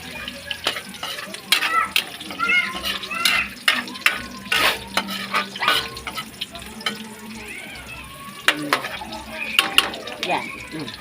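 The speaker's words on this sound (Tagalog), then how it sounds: "Nagisa na natin yung bawang sibuyas." Garlic and onion sautéing in a pan, a soft background sizzle broken by frequent sharp clinks and scrapes of a utensil stirring against the pan, with a voice talking intermittently.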